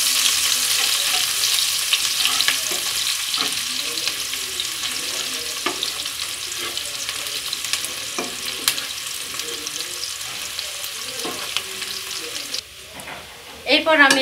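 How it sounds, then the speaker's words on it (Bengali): Chopped onion fries in oil in a pan while being stirred, with a steady close sizzle and occasional scraping for fish kalia, ending with a louder clatter. "এটা নরম হয়ে যাওয়া পর্যন্ত আমি কিছু সময় ধরে তেলের ভিতর নেড়ে ছেড়ে নেব।"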